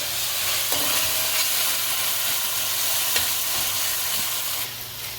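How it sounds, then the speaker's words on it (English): A tomato and seasoning mixture for Trinidad-style stewed red beans fries in a pot with a steady, loud, close sizzle and hiss, broken by a few faint clicks of stirring. "So this mixture here has to fry about 3 minutes before we add the red beans there."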